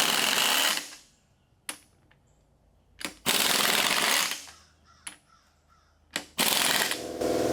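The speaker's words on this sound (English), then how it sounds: "The compressor's about to kick on." Shop air compressor cycling on in a garage, loud bursts of motor and pump noise that cut in and out several times, with quiet gaps between the runs.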